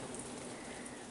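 Steady rain falls on a rainy day, a faint, even hiss of drops that holds without pause and with no talking.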